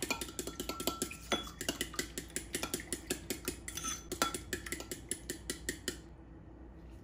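Eggs and milk beaten in a bowl with a fork or whisk, rapid rhythmic clinking strokes against the bowl, close and brisk, stopping abruptly near the end.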